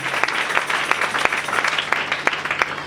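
A church congregation gives loud, sustained applause, a dense wash of many hands clapping steadily with a few sharper claps standing out, without talk.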